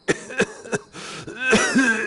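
A few sharp, close coughs in quick succession, then a rougher, longer throat-clearing hack with a wheezy edge.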